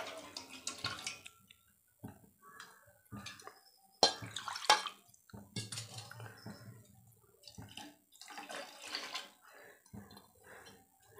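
Soaked black rice and water poured into a cooking pot, close-up splashing and dribbling in intermittent bursts with quiet gaps between pours.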